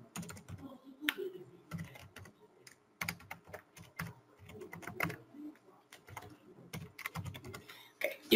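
Keys clack on a computer keyboard in irregular bursts of quick taps and separate sharper strokes, close and fairly quiet, with faint talk in the background.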